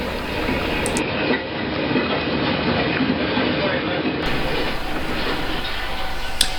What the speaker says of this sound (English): we see GP9 number 7175 pulling the short maintenance of way train